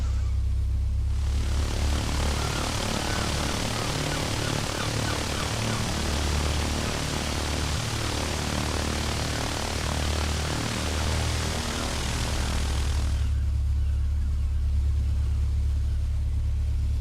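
Piper Cherokee engine taxiing in a flight simulator, a steady, loud low propeller-engine drone with broadband rumble that holds for about twelve seconds, then drops to a quieter low hum near the end.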